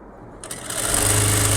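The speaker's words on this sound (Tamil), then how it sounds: "இப்போது மேலே நான் ஒரு படிமான தையல் போடலாம்" A sewing machine starts up and runs fast and steady, stitching a net blouse, loud and close with a dense whirring hum and no speech.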